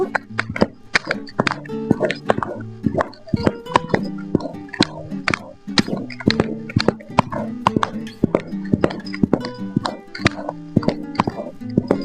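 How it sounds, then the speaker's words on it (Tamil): Thick, sticky millet dough being stirred vigorously with a stick, repeated wet plopping and slapping sounds in a steady rhythm, close up. "இப்போ ஒரு குச்சிலே நம்ம கிண்டிக்கலாம் நல்லா."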